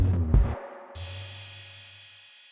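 Layered drum fill tracks, driven by Decapitator saturation and washed in spring reverb, hit in a quick dense burst, then a final crash blooms and rings out slowly, alone and fading.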